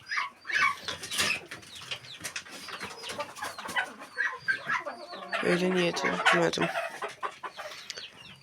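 Chickens cluck and squawk in a farmyard alongside turkeys, with a dense chorus of clucks rising louder toward the end while someone speaks over them.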